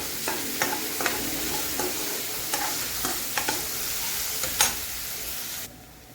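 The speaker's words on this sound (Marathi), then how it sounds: "यामध्ये आपल्याला थोडंसं मीठ टाकून 4 ते 5 मिनिटं कांदा आणि टोमॅटो शिजवून घ्यायचं।" Onions and tomatoes with a pinch of salt cook in a pan for a Maharashtrian kurdai bhaji, giving a steady low sizzle broken by repeated sharp scrapes of stirring, then dropping off abruptly at the end.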